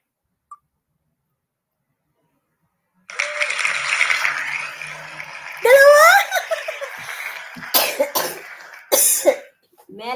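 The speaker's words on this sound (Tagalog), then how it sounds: "Grabe ubo ko." Coughing from a person in a quiet room, a few close, harsh bursts after silence, mixed with light giggling and a little talk.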